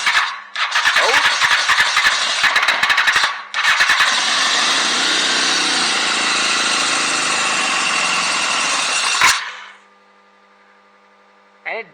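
A Honda CBR 929 Fireblade motorcycle under fuel-pump testing sputters into life, revs loudly and roughly for several seconds, then cuts out abruptly, leaving near silence before a brief final noise.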